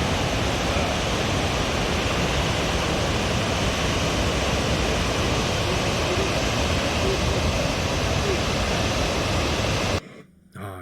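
A steady, heavy roar of falling water from the Štrbački Buk waterfall fills the scene without a break, loud and close, before it suddenly drops away at the end.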